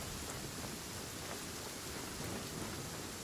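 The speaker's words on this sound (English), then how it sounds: "Did you know that the sound of thunder is the prelude to new life?" Steady heavy rain hisses evenly throughout, with a faint low rumble of thunder blending into the downpour.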